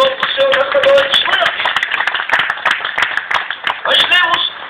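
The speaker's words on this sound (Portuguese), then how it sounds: "Pode aplaudir o nome do Senhor nesta noite" An evangelistic outdoor church service congregation claps loudly in quick, uneven bursts under mingled voices, with the sound narrow and slightly muffled.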